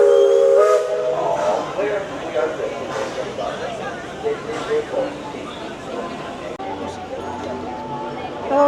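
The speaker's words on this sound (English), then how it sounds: "Here comes the train." A Magic Kingdom steam train sounds its whistle in a loud opening blast and then brief repeats amid steam hiss and theme-park crowd chatter, with people talking nearby.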